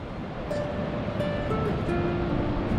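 Winter waves rolling onto a park beach, a steady low roar of surf with wind noise, thin tonal hums drifting above.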